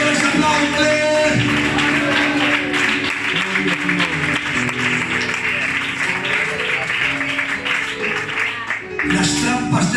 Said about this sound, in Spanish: Si lo quieres aplaudir.